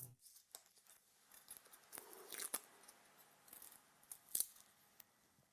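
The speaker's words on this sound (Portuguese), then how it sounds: "Depois corto o alho. É só cortar em cima e embaixo." Knife slicing garlic cloves on a cutting board while preparing a bolognese sauce, quiet with scattered sharp cuts and a few louder crisp snaps.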